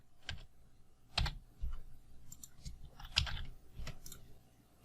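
Keys tapped on a Mac computer keyboard while entering code, heard as quiet, irregular clicks in short scattered bursts with gaps between keystrokes.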